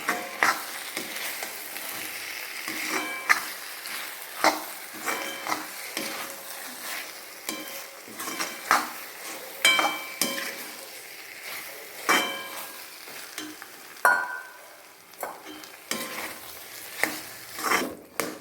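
Tomatoes sauté in a pan for a country chicken curry, with a continuous close sizzle under repeated scraping and clinking strokes of a spoon stirring at an uneven rhythm.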